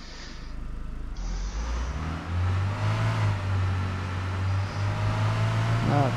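A car in the video game Arma 3 drives cross-country with its engine humming and revving steadily, pitch shifting as it accelerates, close and continuous throughout.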